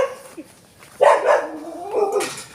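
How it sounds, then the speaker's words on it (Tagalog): A dog barks before dawn near a house, a few short yipping, whining calls at moderate distance outdoors, with a quieter yelp beforehand. "Aso."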